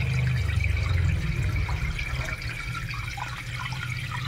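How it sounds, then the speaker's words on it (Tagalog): Water pours steadily into a pot of twice-rinsed uncooked rice being readied for cooking, a close, continuous splashing and trickling that lasts throughout with no talk over it. "So lalagay na natin ang tubig."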